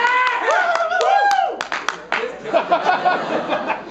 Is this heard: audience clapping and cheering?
yes